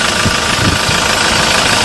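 A used car's engine runs steadily in the engine bay, a continuous close, loud idle hum with rough low knocking pulses throughout and no talk.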